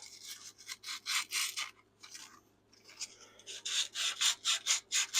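2000 grit emery cloth rubs against a metal part of a skid steer, giving rapid rhythmic scrubbing strokes in two bursts separated by a short pause, close and clear with no talk.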